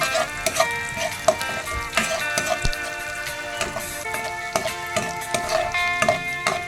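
Garlic fries in a pan with a soft, continuous sizzle and crackle, punctuated by light clinks of stirring, fairly quiet and close.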